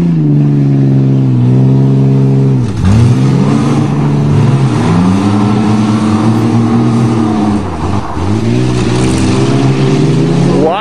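A Ford Ranger and a Dodge Dakota, both two-wheel drive, rev hard in a tug of war. The engines are loud and close, with repeated rising and falling revs and short dips as the trucks strain against each other.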